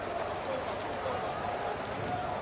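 Crowd applauding at a political rally in Meerut, a steady, dense wash of clapping from many people, moderately loud and continuous throughout with no distinct individual claps.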